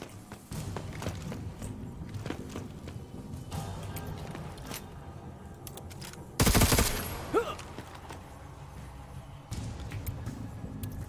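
Gunfire in the video game Necromunda: Underhive Wars, a sharp, loud burst of shots midway through, with scuffling footsteps and movement before and after.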